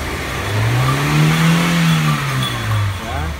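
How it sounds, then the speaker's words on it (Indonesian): A Daihatsu Terios engine revs up to about 4000 rpm and back down in one loud, close sweep, a smooth rising and falling mid-pitched roar. "setelah itu kita injek gas sampai 4000."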